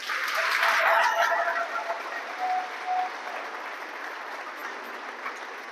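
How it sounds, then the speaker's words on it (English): An audience at a food bank's 40th birthday presentation claps and whoops, swelling to a peak in the first second or two, then tapering into lighter, scattered clapping with a few high shouts. "everybody give them a round of applause"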